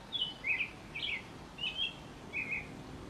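An American robin sings a bouncy series of short warbled phrases, about five clear two-part notes spaced evenly with brief pauses, fairly close and alone over a light background hiss.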